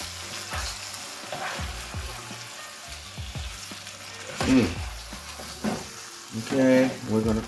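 Chicken livers and gizzards sizzle and fry in a pan with a steady crackle, close by, broken by clanks and scrapes of stirring.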